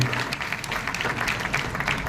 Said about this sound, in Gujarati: અજયભાઈ પટેલ સાહેબનું જોરદાર તાળી પાડીને સ્વાગત બધા આપણે કરીએ